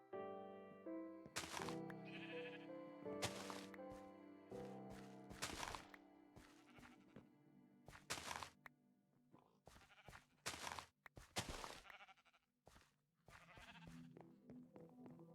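Minecraft sheep give several short bleats in bursts, with blocky game thunks and clicks in between, nearby and fairly quiet.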